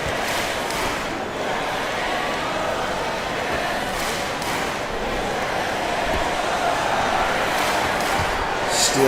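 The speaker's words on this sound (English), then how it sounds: "Listen to the crowd." Virtual arena crowd in a SimWorld Sports basketball game roars in a steady, dense wash throughout, swelling slightly toward the end, with a commentator's voice running over it.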